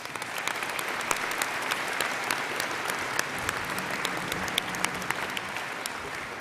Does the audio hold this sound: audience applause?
yes